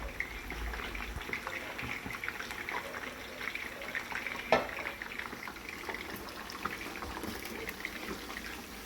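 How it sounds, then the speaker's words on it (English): A steady, busy crackle and sizzle of chicken deep frying in hot oil nearby, continuous and fairly quiet, with a single sharp knock partway through. "now I'll let that cook whilst I deep fry the chicken"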